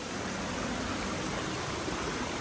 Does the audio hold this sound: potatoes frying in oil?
no